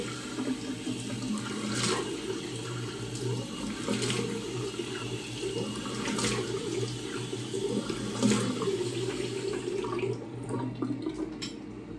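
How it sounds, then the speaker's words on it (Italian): Fresh tap water runs steadily into a sink while someone rinses their face after a shave, a continuous close splashing flow with periodic stronger splashes, then the water cuts off near the end, no talk. "mi sciacquo il viso con l'acqua fresca adesso"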